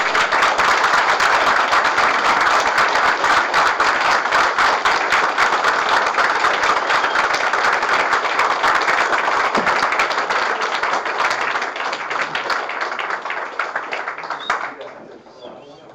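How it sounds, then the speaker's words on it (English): Sustained audience applause at an Alcoholics Anonymous speaker meeting, a dense steady roar of many hands clapping that holds for most of the stretch before thinning and fading out near the end, with no talk over it. "let's give him one more round of applause"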